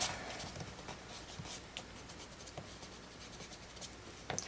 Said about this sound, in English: So then I'll erase the lines that I don't want.